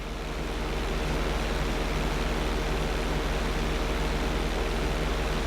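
Propeller airplane engine in GTA 5, droning loud and steady for several seconds as the plane holds a knife-edge roll, a constant broadband roar with no voices.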